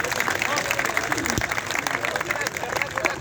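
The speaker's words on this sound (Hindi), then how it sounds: "एक बार मुझे तालियों से अनुमति दे दीजिए।" An audience at an outdoor Hindi humor poetry gathering on a riverside ghat in Varanasi breaks into brisk applause, dense clapping filling the short moment with crowd noise.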